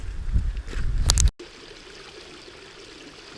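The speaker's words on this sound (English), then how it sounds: "Waterfalls, Mike." Rushing water from a waterfall on the Eagle Rock Loop backcountry hiking trail gives a loud, broad roar for just over a second, then cuts abruptly to a much quieter, steady outdoor background.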